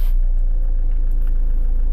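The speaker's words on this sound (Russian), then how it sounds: "Сейчас просто заведем двигатель." A Citroen C5 X7 with a DW10CTED4 diesel engine idles right after starting, a loud, steady low rumble with a constant hum, close and uninterrupted.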